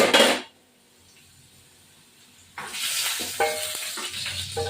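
Potatoes fry in oil in a pan. A loud burst opens the clip, then it goes quiet, and an even sizzle returns with clattering stirring noises near the pan.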